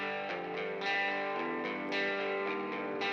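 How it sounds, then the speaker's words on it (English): Sustained electric guitar chords through a vintage reverb plugin, with a warm, washy reverb tail, played alone at a steady moderate level with a few fresh strums. "a free vintage plugin, a vintage reverb"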